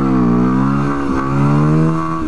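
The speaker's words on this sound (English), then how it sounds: "I want to see what a wheelie looks like from this perspective." A Yamaha WR250R dual-sport motorcycle engine revving hard from up close, its pitch rising, dipping briefly, then climbing again as it pulls a wheelie, loud and continuous with no voices.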